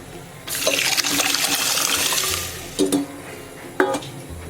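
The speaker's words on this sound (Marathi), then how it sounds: "बघा मी परत अर्धा ग्लास पाणी घालून घेते" Water pours into a whole masoor lentil curry, a gushing splash lasting about two seconds. Two short stirring clatters follow.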